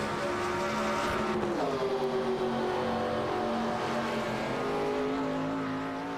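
Race cars lapping Watkins Glen in a racing video game, several engines droning and shifting pitch together as they pass, loud and steady without talk.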